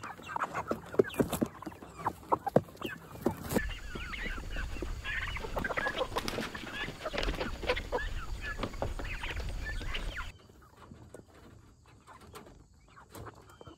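Cornish cross meat chickens about eight weeks old, a flock clucking and murmuring steadily at close range, busy and dense at first, then thinning to quieter scattered calls near the end.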